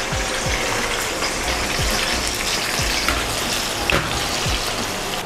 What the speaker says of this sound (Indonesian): ikan asin itu digoreng dulu setengah matang